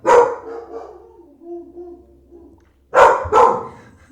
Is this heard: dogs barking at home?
yes